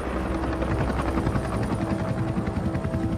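A helicopter's rotor thumps steadily and loudly, with a continuous droning whine, close by and without any voices.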